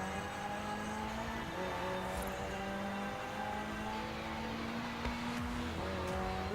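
A McLaren hybrid V8 race car in Forza Horizon 4 drives steadily with a continuous, loud engine drone. The pitch climbs through gear changes, with a few brief shifts and no talking.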